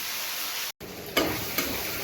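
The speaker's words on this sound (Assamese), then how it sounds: "ব্ৰইলাৰ মাংসটো আহিলে অলপমান হালধি নিমখ দি পেলাই ফ্ৰাই কৰি ল'ব লাগে" Broiler chicken pieces with turmeric and salt fry in a pan, making a steady close sizzle that cuts out briefly, then returns with two sharper spattering bursts.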